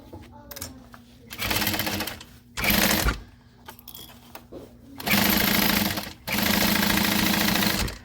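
A sewing machine runs a half-inch seam in separate bursts: short runs early on, then two long steady stretches of stitching with brief pauses between them.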